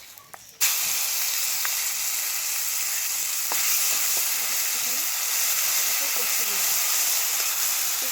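Mustard and chili paste hits hot oil already tempered with dry red chilies and black cumin, bursting into a loud, steady sizzle that holds close and continuous, with a brief quieter moment at the start, while cooking a snakehead fish kalia.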